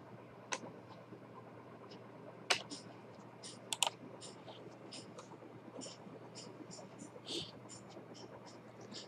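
Keys clatter on a computer keyboard as a TAN number and captcha code are entered on a TDS website, quick soft taps with a few louder sharp clicks spread across a quiet room hum, and talk running underneath.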